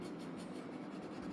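A pen scratching steadily across paper while drawing a peace sign on a caricature, a faint, continuous close-up rubbing with no voices.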